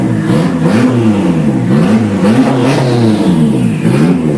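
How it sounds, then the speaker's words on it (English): A car engine at its first start-up revs hard and loud up close. The pitch rises and falls in repeated swells over a constant, rough mechanical roar. "Hey, you can't rev it that high"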